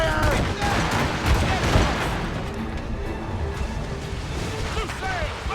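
Ship battle in Assassin's Creed Rogue erupts with rapid gunfire and cannon booms, a thick barrage of cracks and heavy thuds mixed with shouting voices.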